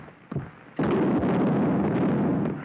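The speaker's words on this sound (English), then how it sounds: "It's the stupid field artillery." Field artillery firing in a 1930s comedy: a faint thump, then a loud sustained blast and rumble that rolls on for nearly two seconds before tapering off, with no voices.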